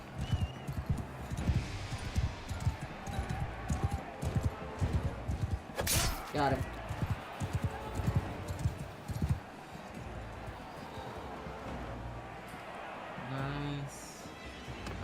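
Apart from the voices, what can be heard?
horse hooves galloping, Mount & Blade II Bannerlord video game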